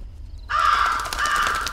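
A crow caws once in a dark forest in a VR horror video game. The call is a single loud, close, drawn-out cry that starts abruptly after a brief quiet moment.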